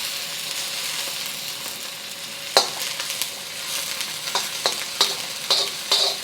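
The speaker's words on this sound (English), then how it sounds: "we're going to add our chilies, garlic, and the white and light green parts of the green onion" Chilies, garlic and the white and light green parts of green onion cooking slowly in corn oil, a close steady sizzle with sharp spoon taps and stirring clicks against the pan, no voices.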